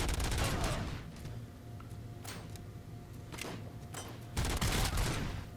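Video game gunfire in sharp, loud volleys: a dense burst at the start, scattered single cracks and short bursts through the middle, and another heavy rapid burst near the end over a steady low background hum.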